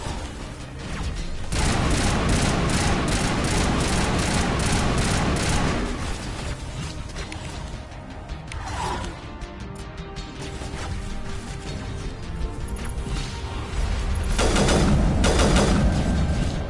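Gunfire in the Mass Effect video game, a sustained fusillade of rapid shots and mechanical clatter that runs almost continuously, easing briefly in the middle before swelling loud again.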